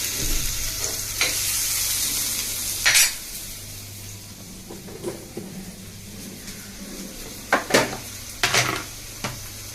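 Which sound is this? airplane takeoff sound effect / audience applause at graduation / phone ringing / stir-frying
stir-frying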